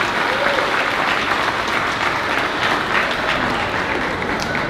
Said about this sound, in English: So if we could please give them a round of applause